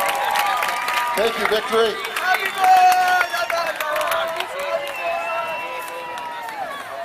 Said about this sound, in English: Let's give them a big, loud round of applause.